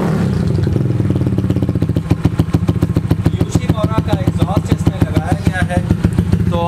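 A 250cc cafe racer motorcycle engine idles steadily after an electric self start, its rapid even firing pulses loud and close, with someone talking over it toward the end.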